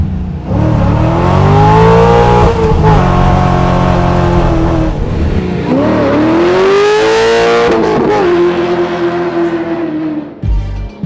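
Widebody C2 or C3 Corvette with an LS-family V8 revving hard and loud from inside the car, pitch rising through first gear, dropping at the second-gear shift, then climbing again before easing off.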